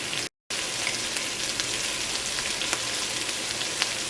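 Chilli paste sizzles in a hot pan while chilli chicken is cooked, a steady, close crackling hiss that runs throughout, broken only by a brief dropout near the start.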